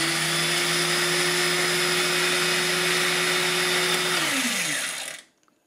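A Silvercrest KM 250 C1 food processor runs continuously with a loud, steady motor whine and high whir, then spins down and stops near the end.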